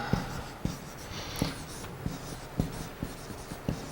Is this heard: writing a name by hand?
yes